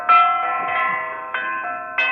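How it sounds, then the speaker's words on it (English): Church bells toll in a 1948 Sherlock Holmes radio drama, rich sustained bell tones with three distinct strikes roughly every two-thirds of a second, each ringing on and overlapping, fairly loud and close with no voices. "That blasted tolling is beginning to get on my nerves."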